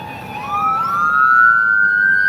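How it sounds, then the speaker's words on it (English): Emergency vehicle sirens wail loudly on a street, two rising tones overlapping and sweeping upward close by, heard while walking outdoors. "Sorry for the sirens."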